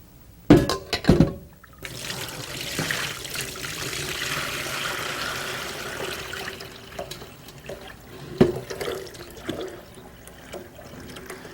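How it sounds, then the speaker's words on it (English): Spinach leaves are rinsed by hand in a bowl of water, giving a continuous close sloshing and swirling with a few sharper splashes and knocks at the start and near the end, no talking. "you do this at least 2 or 3 times until the rinsed water is completely clear and there's no more trace of sand"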